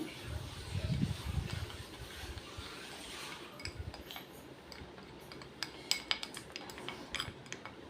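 Triphala powder face pack mixed with rose water in a small bowl, faint clinks and scrapes of a spoon, louder toward the end, under quiet background noise.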